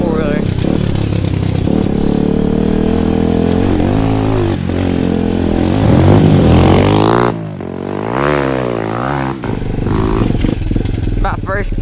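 An SSR150R pit bike engine accelerating hard, a loud close buzzing four-stroke note rising through the revs, dipping between shifts and climbing again, with a voice heard over it.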